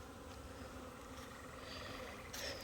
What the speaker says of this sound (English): And they are swarming with bees.